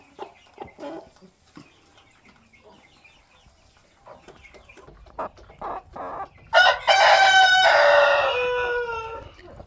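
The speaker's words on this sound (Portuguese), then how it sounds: "aqui na parte maior do galinheiro, onde tem mais galinhas" Chickens in the larger section of a henhouse cluck in scattered short bursts, then a rooster crows loudly and close near the end.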